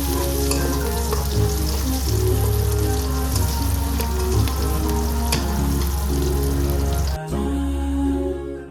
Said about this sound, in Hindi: प्याज मैंने फ्राई करने के लिए रख दिए थे